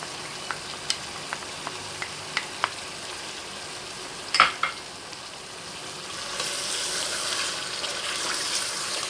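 Green chillies and tomatoes fry in a pan for a chicken biryani, with a spoon stirring. Several sharp metallic clinks and taps come first, then a steady sizzle swells for the last few seconds.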